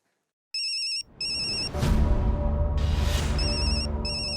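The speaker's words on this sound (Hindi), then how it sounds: "दादाजी, पापा का फोन।" A phone ringtone trills in short repeated bursts, clear and fairly near, starting after a moment of silence, with a low rumbling room sound swelling underneath partway through and no talking.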